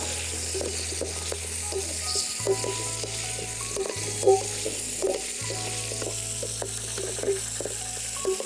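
Chopped onions, rinsed in water, sautéing in a dry pan without oil while goat head curry is cooked: a steady close sizzle with stirring clicks and scrapes over a low continuous hum, no talking.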